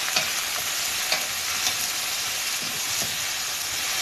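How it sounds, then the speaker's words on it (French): Potatoes browning in a pan give off a steady close sizzle and hiss, broken by a few soft stirring scrapes, with no talking over it. "On va les faire ainsi revenir,"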